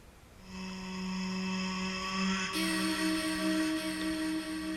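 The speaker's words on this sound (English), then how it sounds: "It was this vocal chop." A pitched, reversed vocal chop sample from a beat-battle production plays alone, a sustained harmonic tone swelling in from silence and jumping up in pitch near the middle before holding bright and steady to the end.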